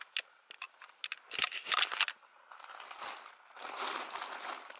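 A cat wedged inside a plastic bag crinkles and rustles it in irregular bursts, with sharp crackles and softer shuffling, fairly close and quiet.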